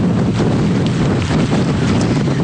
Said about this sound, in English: I also want to show you these waves right behind me. They are crashing along the shore here.